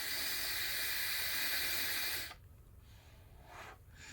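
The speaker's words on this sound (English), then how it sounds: "Add some more airflow, but then you also hear a little bit of a wisp." Airflow hiss from a PC case with its faceplate removed and an AIO cooler running: a steady broadband rush that cuts sharply halfway through to a much quieter, muffled background with faint swells.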